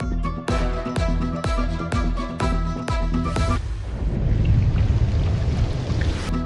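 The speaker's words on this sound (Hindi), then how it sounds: "शहर के मुख्तलिफ इलाकों में मूसलाधार बारिश।" Several sharp, rhythmic musical hits ring out, then give way to a dense, steady wash of heavy torrential rain pouring over a Lahore street, continuing without voices.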